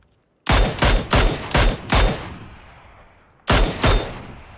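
Rapid bursts of automatic gunfire from a Vector and a Mini in a battle-royale style video game, five close loud volleys in quick succession, a pause with fading echo, then another burst of shots.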